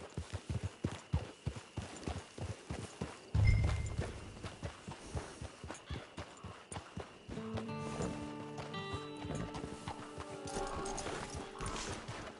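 Horse hooves clip-clop in a steady walking rhythm in Red Dead Redemption 2 Online, near and fairly loud, with a brief thump partway through, then in-game music comes in under the fading hoofbeats.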